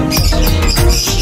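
A pedigreed breeding bird being offered for sale chirps in a loud, dense burst of short rapid calls, close by, with no talk during the calls.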